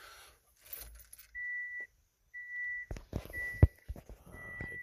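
A 2006 Subaru GD Impreza with an EZ30R engine and Link Extreme X ECU, ignition switched on, sounds a clear electronic warning chime: steady beeping tones in repeated bursts over faint rustling and key jingles, no talking.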